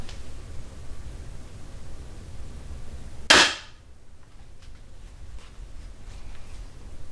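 An Excalibur Mag Air lightweight recurve crossbow fires once outdoors, a single sharp, loud snap that cuts sharply through a quiet background hiss and dies away quickly.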